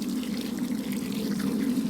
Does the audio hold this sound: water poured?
yes